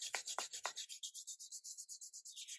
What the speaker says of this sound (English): use my bit of sandpaper on this, so I'm just going to quickly do that